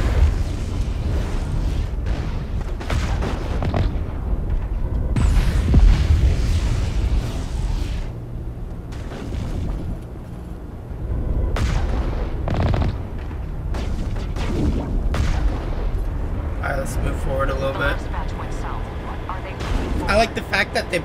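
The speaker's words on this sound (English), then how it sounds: "Just gonna shoot them from way back here" Gunfire in Mass Effect Legendary Edition as enemies are shot from long range: repeated shots and bursts with booming impacts run throughout, fairly loud, mixed with game sounds and someone talking over it.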